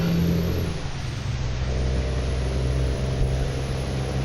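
A truck engine in American Truck Simulator drones steadily with deep low rumble and a high whine, loud and continuous, with no voices.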